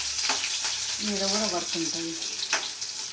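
Cut chillies and garlic hit hot oil in a pan, giving a bright, crackling sizzle that stays steady across the whole stretch, with a brief voice in the middle.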